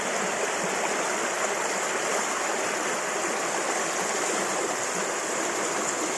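Steady rushing water from a small waterfall step in river rapids, a dense, even roar that never lets up.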